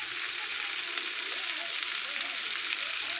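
Potatoes frying with turmeric, salt and Kashmiri chilli powder in a pan for a vegetarian aloo dum, a steady close sizzle with faint stirring scrapes throughout and no talking.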